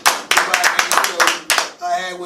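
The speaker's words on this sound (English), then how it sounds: "I can get a hand clap on that shit for everyone." A run of about seven crisp hand claps in an uneven rhythm during a podcast recording, close and loud, ending as a brief tone rings out.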